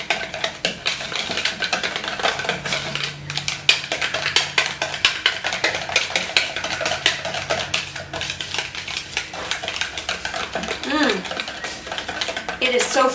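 Dip sauce ingredients, including apple cider vinegar, being whisked together in a bowl for chicken tenders, a steady rapid clatter of whisk against the bowl running throughout at close range.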